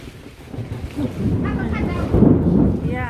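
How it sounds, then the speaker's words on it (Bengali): Wind gusts through a rural village ahead of a thunderstorm, a rumbling buffet that swells toward the end, with voices faintly present. "বাতাস"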